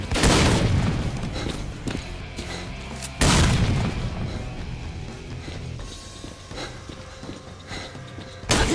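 Grenade blasts in a video game: two loud, close booms with rumbling tails, one at the start and another about three seconds later, then a third burst near the end, with no talk over them.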